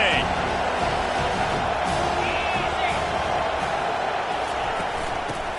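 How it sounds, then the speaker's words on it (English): A packed football stadium crowd at an Ohio State vs. Penn State Big Ten game roars loudly and steadily, a dense, full-throated wall of cheering that holds for the whole stretch. "This crowd, full throat, spreading the eardrums and letting them know it's going to be a long day."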